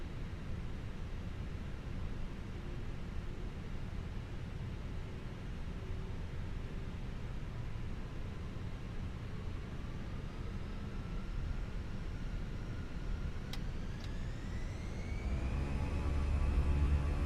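An Airbus A319 takes off in a flight simulator game, with a continuous broad engine roar and a tone that rises as the engines spool up toward the end.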